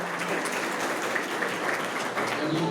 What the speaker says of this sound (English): give yourselves a huge applause right now too